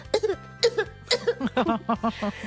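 A person imitates a child's cough: a rapid series of short, voiced coughing bursts with a high, childlike pitch, close to the microphone.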